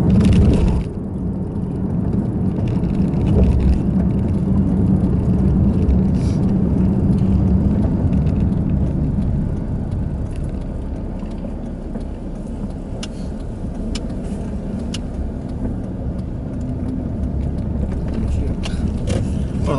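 A bus drives along a straight road on the Arafat route during the Hajj, its engine a steady, loud rumble that holds throughout beneath background noise.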